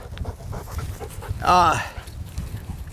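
A hunting dog that has just retrieved a pigeon pants in a short burst, with people talking around it outdoors.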